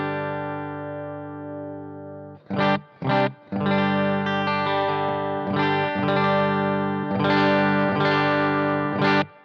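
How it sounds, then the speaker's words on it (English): Electric guitar played through a Bluguitar Amp1 Mercury Edition amplifier with reverb dialed in, ringing sustained chords that break for two short stabs, then return as strummed chords with a lingering reverb tail, loud and alone. "I'm going to go ahead and just dial in a good reverb sound and just leave it on the whole time."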